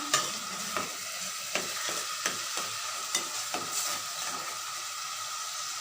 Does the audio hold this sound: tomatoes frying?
yes